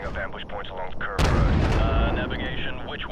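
A gunship's heavy cannon fires on houses in Modern Warfare Remastered, a sudden loud booming blast followed by rumbling impact and sustained roaring decay, with a voice talking faintly over the earlier part.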